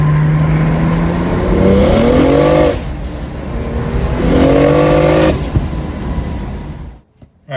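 A single-turbo BMW 135i revs hard on a 23 PSI boost pull, its engine note climbing through two strong acceleration runs with a shift between them, loud and close from inside the car, dropping off sharply at the end.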